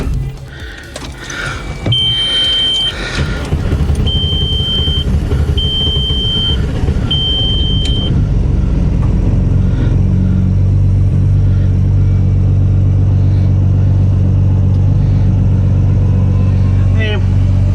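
A car engine idles on the street after a brief rev, a deep, steady rumble close by, with a few short electronic beeps early on and some handling noise at the start.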